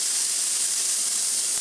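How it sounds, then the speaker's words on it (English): Steam hissing from the opened steam valve of a vintage Faema two-group espresso machine, a loud, steady, high-pitched rush that holds evenly throughout, close up and with no voices. "Here, you have your steam valve."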